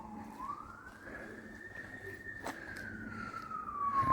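An ambulance siren in Slovenia wails, sweeping up and holding a high tone before falling, heard at moderate distance over street noise, with a brief sharp clatter midway.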